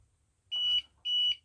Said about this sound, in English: I don't know what I did to make the alarm go off.